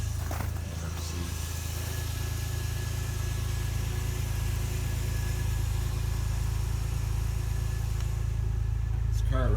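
Old car engine idling after a cold start, an Oldsmobile Cutlass or Buick Electra, a steady low rumble with even vibration throughout and a brief voice at the very end.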